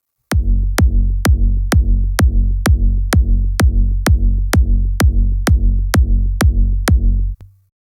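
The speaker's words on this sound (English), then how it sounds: "And all 4 layers together, the big room kick sounds like this." A layered four-part big room kick drum from FL Studio pounds in a steady fast four-on-the-floor pattern, about sixteen loud punchy booms with sharp clicks, ending abruptly.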